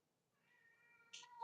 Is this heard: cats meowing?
yes